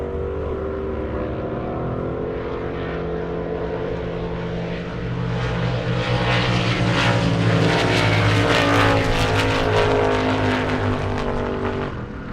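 A Chevy Nova SS and a Cutlass drag race down an airstrip. Loud, sustained engine roar builds as the cars pass close, then fades slightly.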